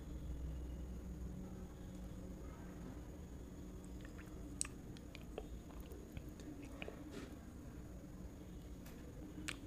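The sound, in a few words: chewing a bite of pork belly curry with rice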